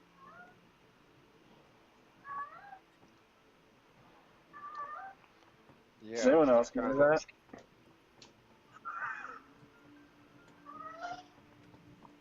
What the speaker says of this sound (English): I hear him meowing.